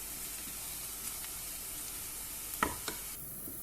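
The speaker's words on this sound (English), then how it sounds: "Add in the onions and fry them till they are golden brown in color." Onions frying in a pan, a quiet steady sizzle with a couple of brief stirring scrapes near the end, no voices.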